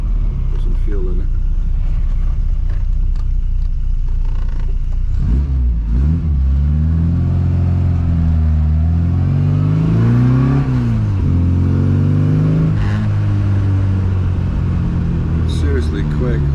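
A custom classic Mini Cooper on a road test idles roughly and then revs hard, its engine note climbing and wavering through repeated loud accelerations close to the listener.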